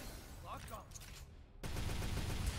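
A rocket launcher fires in the Devil May Cry 5 game amid explosive bursts and game effects, with a loud, dense blast filling the later half after a brief quieter stretch.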